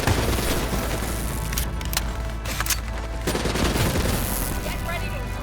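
Dense, loud gunfire in the video game Call of Duty Black Ops III, a continuous barrage of rapid shots and booms layered with battle noise and some game voices.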